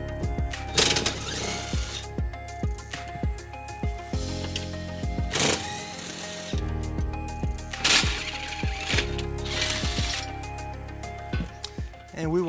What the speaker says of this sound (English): We're gonna remove those using a 14mm socket.